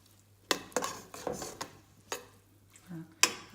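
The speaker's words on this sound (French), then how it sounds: "Je vais bien mélanger." A spoon stirs moringa juice mixed with iced water in a glass, giving several sharp clinks and scrapes spaced irregularly, close and moderately loud with no talk.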